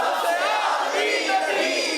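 A large crowd at a religious quiz show event chants devotional slogans together, a dense and loud wall of massed voices that is sustained and rhythmic and fills the entire stretch.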